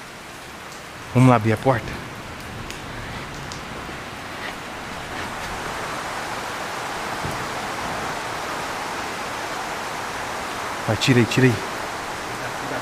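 Heavy rain pours down steadily at night outside a farm, a continuous hiss throughout, with two short bursts of nearby talking.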